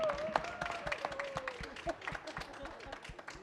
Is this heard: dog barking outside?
no